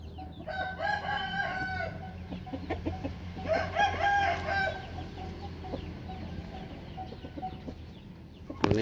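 A fighting rooster crows loudly nearby, then crows again a couple of seconds later, with faint clucking and farmyard noise in between.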